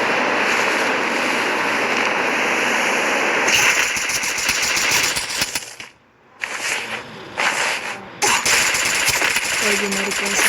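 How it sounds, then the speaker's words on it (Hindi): Rapid bursts of automatic gunfire from the video game Free Fire crackle loudly in dense volleys, broken by a brief pause before more firing resumes. "और फिर से गन चल रहा है"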